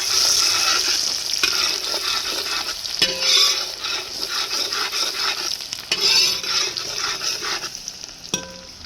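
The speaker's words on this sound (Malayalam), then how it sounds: "വെളുത്തുള്ളി ആദ്യം ഇട്ട് കൊടുത്തിട്ടുണ്ട് എന്നിട്ട് നന്നായിട്ടൊന്ന് ഇളക്കിയതിന് ശേഷം വേണം നമ്മൾ ബാക്കിയൊക്കെ ഇടാൻ" Garlic frying with mustard seeds in hot oil in an uruli while being stirred for beef pickle, a loud continuous sizzle broken by repeated scraping strokes of the spoon against the pan.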